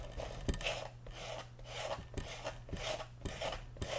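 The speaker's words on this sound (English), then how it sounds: "Going to take the sandpaper, and we're just going to scuff up that rubberized collar there." Sandpaper scrubs a neoprene rubber wrist gasket collar in a rhythmic series of rasping strokes, about eight close, steady scuffs over a low background hum, with no talking.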